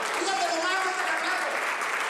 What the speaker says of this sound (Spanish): Bastaron unos segundos en el escenario para lograr los primeros aplausos de la selecta concurrencia